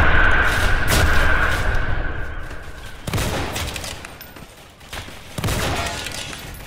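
Bursts of gunfire in a Roblox World War II game, close and loud, with repeated volleys and crackling shots rising and fading over several seconds amid battlefield din.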